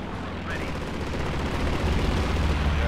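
An airstrike and gunfire in the Company of Heroes 2 strategy game, with dense continuous rumbling explosions and rapid shots, loud and unbroken throughout.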